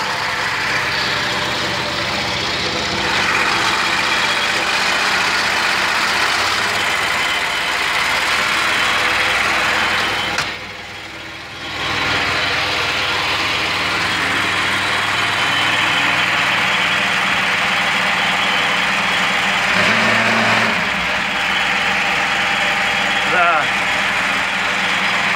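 Evolution Power System fitted with a Kohler engine runs under raised throttle, a steady loud mechanical drone with a brief dip midway, accompanied by fan and agitator noise and a person talking over it.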